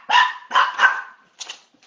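Puppies bark close and loud: three sharp barks in quick succession, a short pause, then a fainter fourth yip.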